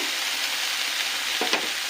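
Vegetable stems with shrimp frying in a covered pan, giving a dense, loud, continuous sizzle, with a couple of brief soft knocks near the end.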